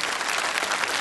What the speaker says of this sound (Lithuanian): Publikos plojimai Vaidui ir šauniam pasirodymui